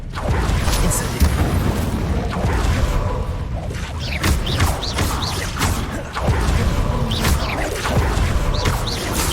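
Incendio fire spell in Hogwarts Legacy amid a busy spell duel, with repeated whooshing bursts and crackling flare-ups over a dense, continuous roar of combat effects and voices.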